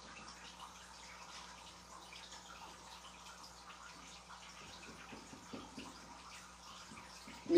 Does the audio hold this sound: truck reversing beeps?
no